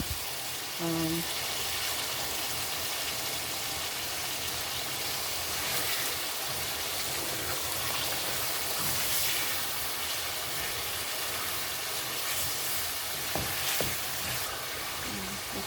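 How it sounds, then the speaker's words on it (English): Steady crackling sizzle of food frying in a pan, continuous and close, with occasional light clinks of a utensil stirring. "so we're gonna continue frying this"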